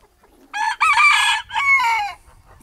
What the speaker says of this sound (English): that little rooster right there